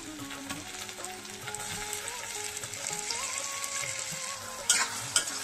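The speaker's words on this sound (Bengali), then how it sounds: "পেঁয়াজটাকে একটু ভেজে নিয়েছি লাল করে, দেখো। এখন টমেটো কুচিটা দিয়ে দেবো।" Chopped tomato hits browned onions in a hot pan for chicken liver curry, giving a steady loud sizzle with stirring scrapes throughout and a few sharp spatula knocks near the end.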